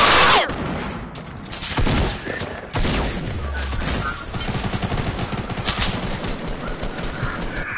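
Sustained automatic gunfire from a shooter video game, dense and loud throughout, with a heavy boom partway through and a faint voice beneath.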